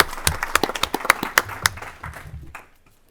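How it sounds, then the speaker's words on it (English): A few people applaud in a legislative committee hearing room, sparse individual claps from a small group with a faint voice underneath, tapering off into quiet. "Please give him a round of applause."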